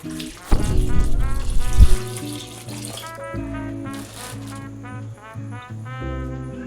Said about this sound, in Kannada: ಮತ್ತು ನೀರು ಹಾಕೋತಾ ಇದ್ದೀನಿ